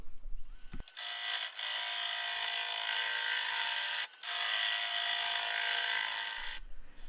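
A bowl gouge cutting apple wood on a lathe, a loud continuous hissing scrape broken by two short pauses, close and alone with no talk.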